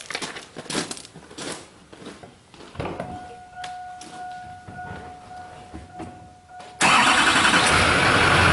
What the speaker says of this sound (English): We'll fire the truck up and back away.